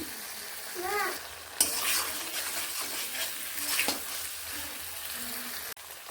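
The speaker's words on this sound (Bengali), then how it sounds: "মশলাটিকে একটুখানি টাইম দিয়ে ভালোভাবে কষিয়ে নিচ্ছি" Spice masala sautéing in oil for a striped dwarf catfish curry, a soft crackling sizzle with intermittent stirring scrapes and spoon taps, fairly close.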